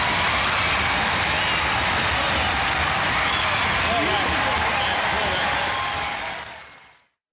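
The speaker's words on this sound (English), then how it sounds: "Ladies and gentlemen, give them a round of applause." Studio audience at a Robot Wars robot combat event claps and cheers for lightweight champions, a dense sustained roar of applause that holds steady for about six seconds before fading out.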